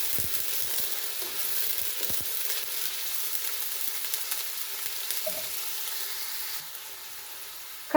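Chopped onion frying in hot oil in a home kitchen, a steady soft sizzle with faint crackles running throughout, easing slightly near the end.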